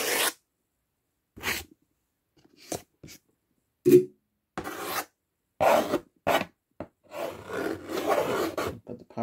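Black tourmaline crystal rubbed and scraped close up in a quiet room, producing soft separate raspy strokes that begin sparse and become more frequent and textured toward the end.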